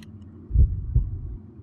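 Heartbeat in the horror video game Dungeon Nightmares 2: two heavy, low thumps about a third of a second apart, close and fairly loud against a dull background hum, with no talking.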